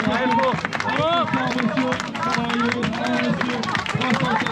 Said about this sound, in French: On les applaudit là, Allez, bravo!